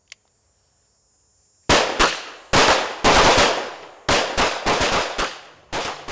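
Sharp, loud gunshots at a shooting range: a single faint pop, then bursts of rapid, close shots in irregular clusters, ringing out without talk.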